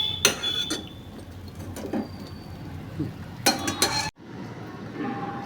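Garelu, lentil fritters soaking in hot sugar syrup, are turned over in a pan with a metal utensil, giving a few sharp clinks and scrapes spaced through quiet kitchen background.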